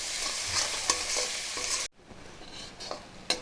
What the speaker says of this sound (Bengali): পেঁয়াজটাকে একদম নরম করে ভেজে নেব